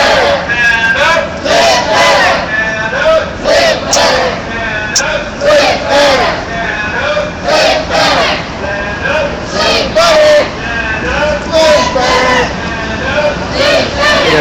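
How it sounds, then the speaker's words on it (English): A crowd of about 30 to 40 protesters picketing a Walmart store chants and shouts together outdoors, with loud, rhythmic bursts of voices repeating steadily throughout. "We got a good crowd of about 30 to 40 people out here picketing Walmart."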